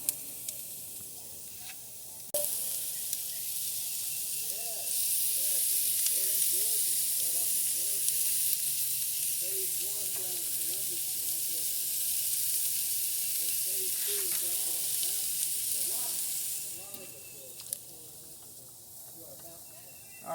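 Chicken sizzles on a propane grill as a steady broad hiss throughout, growing louder after a few seconds, while a person talks intermittently over it.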